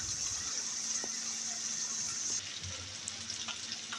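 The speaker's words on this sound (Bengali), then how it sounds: "পেঁয়াজটাকে এবার তেলের মধ্যে ভেজে নেব।" Chopped onions fry in oil left over from frying fish, making a steady close hiss and sizzle with a few faint utensil taps.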